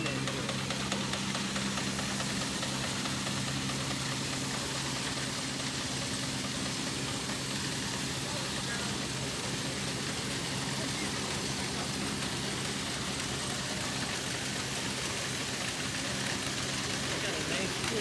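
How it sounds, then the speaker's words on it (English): A Minneapolis steam engine chugs steadily, driving a threshing machine whose constant mechanical rumble and clatter fill the air without pause, at an antique machinery show. "The threshing machine is being run by this Minneapolis steam engine"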